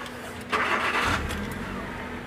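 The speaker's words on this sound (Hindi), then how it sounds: "और ये अभी मैं गाड़ी को स्टार्ट करता हूँ" A Hyundai i10 car with a faulty ECM and hard power steering cranks and starts, a short burst of starter noise settling into a steady near idle rumble, with no talk.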